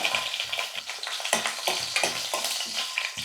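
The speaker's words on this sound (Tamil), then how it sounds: "வெங்காயமும் பச்சை மிளகாவும் நல்லா வதங்கட்டும்" Onions and green chillies sautéing in hot oil with fennel seeds and curry leaves for a banana flower dish, a steady close crackling sizzle broken by repeated scraping stirs.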